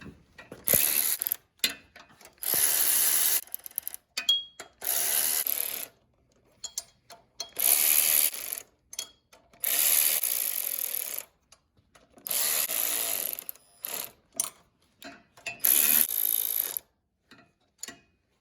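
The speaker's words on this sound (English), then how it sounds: "an electric ratchet, and I'm going to get them all down to just before they start to get snug" An electric ratchet runs bolts down on a Briggs and Stratton engine in a series of short, close whirring and clicking bursts separated by silent gaps.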